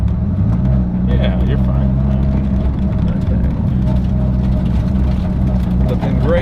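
Dodge Viper with a manual gearbox accelerating in second gear: a loud, steady low engine rumble that continues throughout, with a person talking briefly over it.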